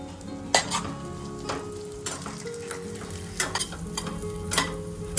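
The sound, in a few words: grated cashews and almonds frying in hot ghee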